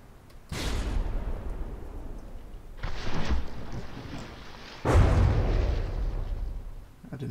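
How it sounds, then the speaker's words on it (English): A ship's big guns fire in a naval video game against the liner SS Île de France. There are three heavy booming blasts spaced a couple of seconds apart, each with a deep rumbling tail, and no talk. "Let's try and get all four guns aimed this time."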